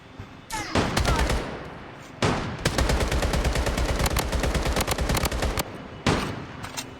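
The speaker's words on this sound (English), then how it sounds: "সামনে অনেক গোলাগুলি চলতেছে।" Gunfire in the video game Blood Strike comes as loud, dense automatic bursts that run for several seconds with brief breaks, rapid shots packed close together.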